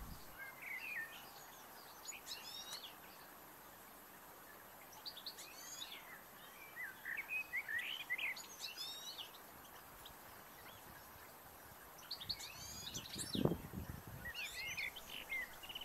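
Goldfinches chirp in short bursts while feeding in a garden, faint twittering phrases recurring over steady outdoor background noise, with a brief low thump near the end.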